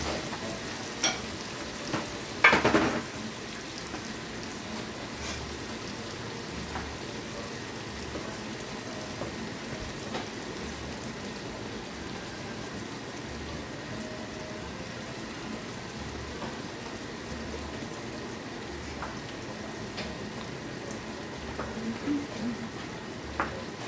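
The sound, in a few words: burger patties searing on a griddle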